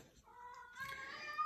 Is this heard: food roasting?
no